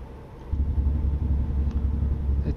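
A Peterbilt day cab truck's engine brake in American Truck Simulator rumbles in a low, throbbing drone that kicks in after a moment and holds steady, slightly pulsing.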